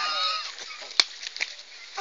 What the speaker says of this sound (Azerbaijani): Quşların səsi gəlir.